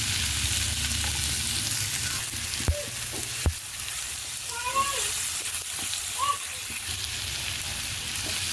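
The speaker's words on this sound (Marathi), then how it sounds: "टोमॅटो पण छान परतून घ्यायचे।" Chopped onion and tomato sauté in a hot pan for a dry chicken curry, giving a steady soft sizzle with a few sharp clicks and scrapes of a spatula.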